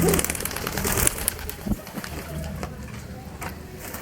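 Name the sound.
adult male pigeon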